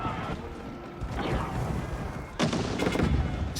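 Gunfire from hand cannoneers and bombards in a strategy game battle, a dense, continuous crackle of shots with a louder burst of blasts near the end.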